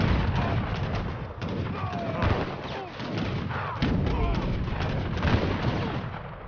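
Repeated booming cannon blasts and crackling explosions in Age of Empires III: The Asian Dynasties, dense and continuous, with scattered effects layered throughout.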